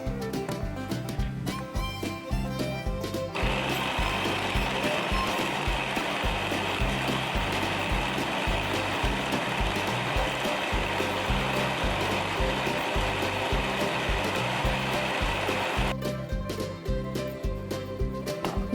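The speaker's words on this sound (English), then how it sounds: "And then you put them all into the blender." A blender whirs loudly and steadily for about twelve seconds blending chopped peppers, starting and stopping abruptly, with quieter clattering before and after.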